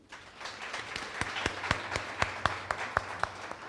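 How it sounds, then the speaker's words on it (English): A small audience at a book-of-the-month gathering breaks into applause. Individual claps are distinct and evenly paced, building from a soft start into a steady, moderately quiet round. "A round of applause to all of you."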